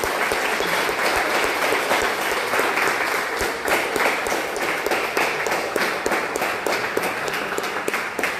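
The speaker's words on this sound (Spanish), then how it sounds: "les pido por favor para finalizar un fuerte aplauso para todos, para el conferencista" Sustained, loud applause from a lecture audience at an education conference in San Luis, many hands clapping in a dense, even roar that holds steady for several seconds before easing slightly at the end.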